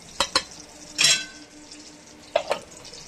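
Prawns frying in oil as they are lifted out one by one, several short bursts of sizzle and utensil clinks spaced irregularly over a faint background hiss.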